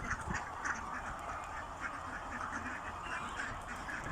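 Ducks on a duck farm quack in a noisy chorus around a small pond, steady and continuous, heard from a moderate distance over outdoor background noise.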